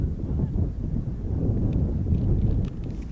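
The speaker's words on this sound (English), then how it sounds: "It's a little windy up here." Wind gusts buffet the microphone in an elevated baseball broadcast booth, a steady low rumbling roar with faint scattered sounds from below.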